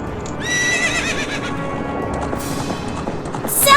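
A horse whinnies loudly, then hooves clatter in a quick galloping rhythm, with a sharp bright noise near the end, in an Ocarina of Time manga dub.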